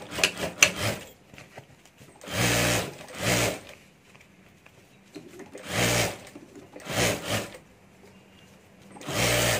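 A sewing machine stitches a homemade hand bag in short bursts, four or five runs of loud whirring separated by quiet pauses, with some handling clatter at the start.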